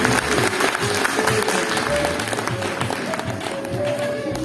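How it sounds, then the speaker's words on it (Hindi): Sustained audience applause fills a school annual day celebration hall, dense steady clapping from many hands running throughout without pause. "एक बार जोरदार तालियां बजाएं सभी लोग मैडम के लिए।"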